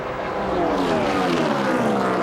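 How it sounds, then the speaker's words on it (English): Loud roar of a NASCAR race car engine from the 41 car at Kansas Speedway in the 2004 Banquet 400, a sustained high-revving drone with rising harmonics sweeping close past. "That's some horsepower right there in the 41 car."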